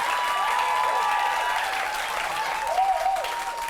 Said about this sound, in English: You're not clapping well.